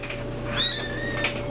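A kitten gives a short, thin, high meow close by, a single brief call over quiet room hum.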